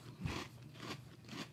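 Honey Nut Cheerios cereal crunches in the mouth, with three soft rhythmic bites and chews close up at low volume, heard without talk.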